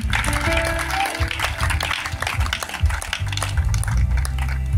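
A congregation applauds at a funeral wake in Becedi-Brignan, with a few seconds of brisk clapping mixed with voices and singing.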